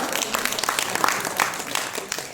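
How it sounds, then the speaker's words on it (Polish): An audience at an art auction applauds after a bid, a brief, moderately loud patter of many hands clapping, with speech over it. "800, wielkie brawa. Brawa!"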